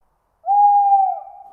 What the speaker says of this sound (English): It's just a stupid bird.